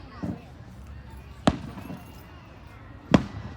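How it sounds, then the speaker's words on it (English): Fireworks bursting during a July 4 show, heard as two sharp, fairly distant booms spaced well apart against a quiet background, with a fainter pop near the start. "When are the fireworks gonna end?"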